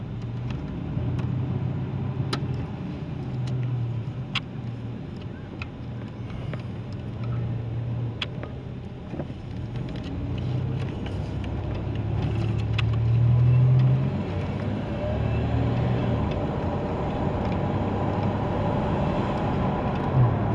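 A 1985 Buick Regal T-Type drives down the road, its engine a steady low drone with road rumble underneath, holding fairly constant and swelling slightly midway with no one talking.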